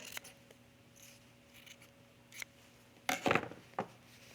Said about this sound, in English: I'm just going to snip that corner